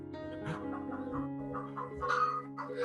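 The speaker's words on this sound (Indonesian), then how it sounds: "Jadi ini induk ayam lagi jagain anaknya ya teman-teman." A mother hen clucking while guarding her chicks, close and fairly loud, a series of short uneven clucks and calls with no talk over them.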